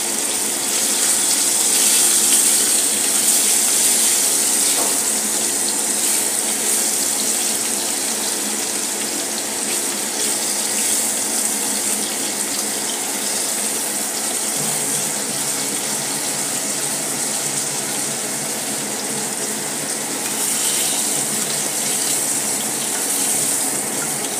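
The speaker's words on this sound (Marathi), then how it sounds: "अशा प्रकारे आपण पनीर थोडे तळून घेत आहोत" Paneer frying in a pan in a home kitchen, a continuous loud bright hiss of hot oil without pause, close up and with no voices.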